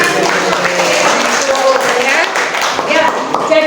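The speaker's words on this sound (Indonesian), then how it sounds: "Tepuk tangan." An audience claps in a classroom setting during a field-practice lesson, a dense crackling patter that carries steadily for several seconds with voices chattering underneath.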